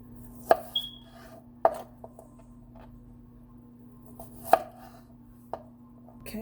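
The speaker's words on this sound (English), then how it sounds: "Okay, so our asparagus is cut up." Asparagus being cut on a board with a knife, four or five sharp separate chops spaced across a quiet background with a low steady hum.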